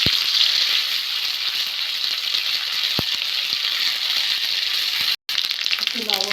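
Spice paste sizzles and crackles in hot oil with dried chillies and black cumin seeds, a steady loud hiss with a few sharp ticks and a brief pop.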